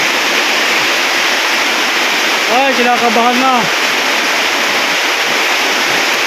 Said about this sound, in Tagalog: Dahil uh, ito, tuloy ang ulan, walang tigil.